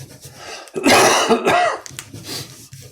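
A person clears their throat and coughs up close, a couple of rough, raspy bursts with quieter breathing around them.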